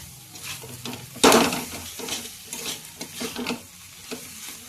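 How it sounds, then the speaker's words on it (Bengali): Banana flower curry is stirred in a pan, opening with a loud scraping burst, then several rhythmic spoon strokes over a soft sizzle, close and without talk. "এবার ভালো করে নাড়াচাড়া করব"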